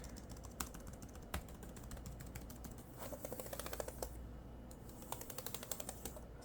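Fingers type on the mushy chiclet keyboard of an HP Victus 16 laptop with an Intel i5-11400H, making close, soft clacks in irregular bursts and quick runs with short pauses, and no voices.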